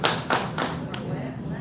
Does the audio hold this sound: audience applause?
yes